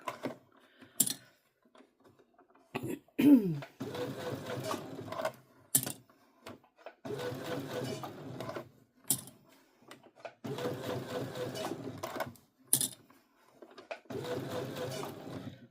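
A Brother CS7000X sewing machine stitches a bucket hat in several short, close bursts separated by pauses, with sharp clicks and handling noises in between.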